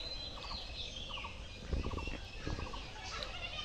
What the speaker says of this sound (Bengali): দেখো হাঁস এই যে হাঁস ওই যে হাঁস